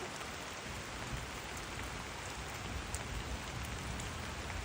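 Heavy rain pours down at a traditional Rambu Solo' funeral ceremony at a Toraja tongkonan, a dense, steady hiss of drops hitting surfaces throughout with no let-up.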